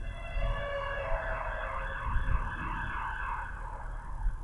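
Police car sirens wailing at a distance across a London street, a faint continuous warbling tone over steady city traffic rumble, with no talk.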